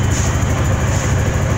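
A Apache 200cc motorcycle engine gives a steady low rumble that drones on without a break, heavy in the bass and even in loudness throughout.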